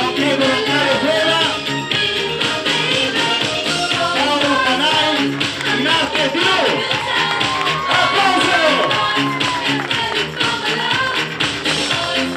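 Steady crowd applause at Mister Clown 2014, an outdoor clown pageant in Falerna, with dense clapping and some cheering running continuously for over ten seconds while voices talk over it.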